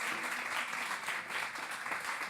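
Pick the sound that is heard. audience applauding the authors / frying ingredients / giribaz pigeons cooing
audience applauding the authors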